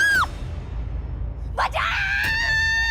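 A woman lets out shrill, drawn-out screams and wailing cries, loud and close, starting with a short shriek and then rising into a long sustained wail over a dramatic backdrop.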